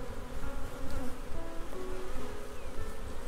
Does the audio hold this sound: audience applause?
no